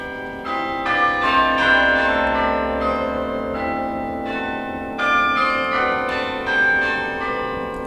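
Carillon of 74 bells weighing 500,000 pounds, played live from the clavier in the Riverside Church bell tower; rich, sustained bell tones ring out in a melodic sequence, loud and close, with no talking.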